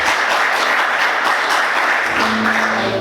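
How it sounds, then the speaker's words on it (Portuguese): A church congregation applauding together, dense and loud sustained clapping filling the room, with a held musical tone entering toward the end. "Você pode aplaudir Jesus com alegria?"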